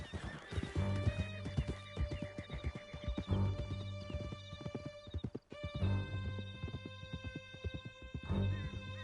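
A horse ridden hard through a canyon in Red Dead Redemption 2 gallops with rapid, rhythmic hoofbeats, neighs and whinnies as it runs, and a musical score plays underneath.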